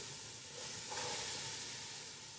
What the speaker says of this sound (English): Let's add our onions in first. There you go. That's the sound we want to hear.